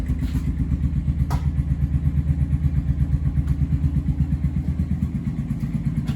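A small lawn mower engine idles steadily close by, its rapid, even putter of firing strokes running without a break, with one brief clatter partway through.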